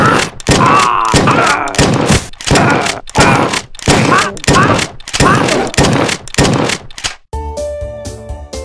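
A double-barrel shotgun fires again and again in Redneck vs Zombies, a dozen loud booming blasts in quick, even succession, close and punchy, ending on a short musical jingle.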